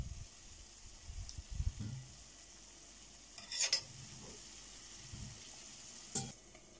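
Meat cooking gently in a pot, with soft stirring and scraping knocks plus a quiet low sizzle; brief louder clatters come near the middle and again toward the end.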